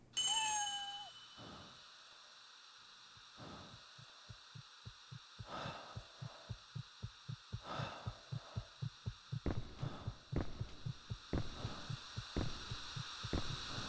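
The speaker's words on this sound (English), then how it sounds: "Metal bell. Handle is in the shape of a cat." In the video game Echo Night: Beyond, a metal bell with a cat-shaped handle rings once at the start with a clear, fading tone. Steady, throbbing heartbeat-like pulses then take over and quicken toward the end.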